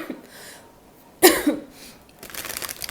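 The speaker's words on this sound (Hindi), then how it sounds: "मुझे बहुत ज़्यादा खांसी आ रही है" A single sharp, close cough bursts out alone in a quiet indoor room, followed by a softer trailing breath and a brief rustle.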